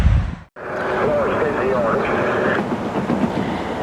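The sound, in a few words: train passing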